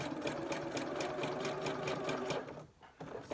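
A sewing machine stitching fabric along the edge of a coat with low foot tension, running in a fast, steady mechanical rattle close up, then briefly slowing and pausing before starting again.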